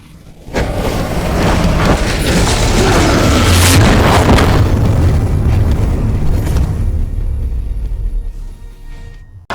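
A powerful punch landing as a heavy, booming impact, swelling fast into a loud, sustained rumbling roar that holds for several seconds before fading, with no voices over it.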